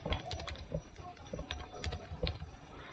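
Computer keyboard being typed on while writing a C program: quick, irregular key clicks, fairly close and quiet, in a light patter with short pauses between bursts.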